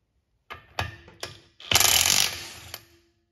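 A DeWalt Atomic cordless impact wrench on a 1.5 Ah battery working lug nuts torqued to about 80 foot-pounds, a few short clicks then a sharp burst of loud rattling hammering, a brief tap after, close up.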